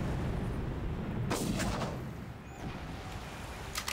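A mortar in the Far Cry video game fires with a heavy, booming launch followed by a rolling rumble that fades. A second, sharper report comes near the end. No one speaks.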